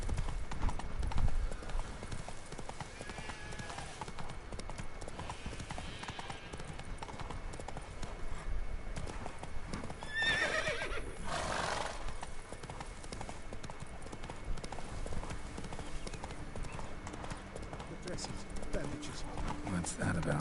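Roach the horse in The Witcher 3 galloping, a fast steady clip-clop of hooves running throughout, with a brief whinny-like burst midway and someone talking over it.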